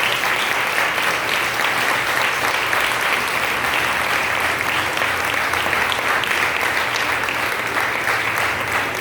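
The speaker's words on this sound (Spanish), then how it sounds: "Den un aplauso grande al Señor." A church congregation applauds for the Lord in a long, steady, dense burst of clapping that fills the room evenly from start to finish with no talk over it.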